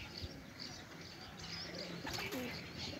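Racing pigeons cooing and calling as they settle at their home loft after a flight, soft repeated coos over a steady outdoor background, with a few chirps near the end.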